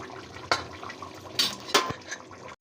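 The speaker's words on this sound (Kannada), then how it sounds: "ಇವಾಗ ಕ್ಯಾಪ್ ತೆಗೆದು ನೋಡೋಣ ಹೇಗಾಗಿದೆ ಅಂತ" A lid comes off a pot of chicken biryani with a few close metallic clatters and scrapes, three quick sharp hits over a faint background hiss.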